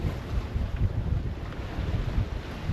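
A good east wind of about 15 knots blows over a sailboat at sea heading from Gibraltar toward Tangier, a steady low rushing and buffeting close to the microphone, with waves washing faintly beneath.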